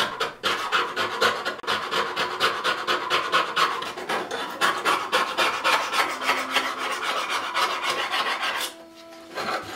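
Rusty hand plane blade from a Union transitional plane being rubbed and sanded clean, a fast continuous rasping scrub with steady back-and-forth strokes, close and loud, pausing briefly near the end.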